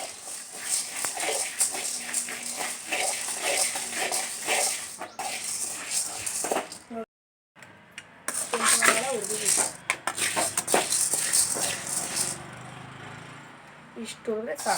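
Chana dal roasting in a pan, stirred with a metal utensil that scrapes and rattles continuously with the dry lentils, with a short silent break midway. A voice talks over the stirring.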